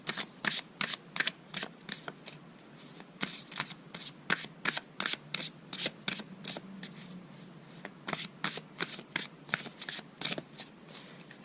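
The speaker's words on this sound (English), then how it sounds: "First edition definitely shuffles better than the other one." Tarot cards from a first-edition Wild Unknown Tarot deck are riffled and shuffled, giving a steady run of crisp, close flutters and snaps with brief pauses between bursts, with no talking.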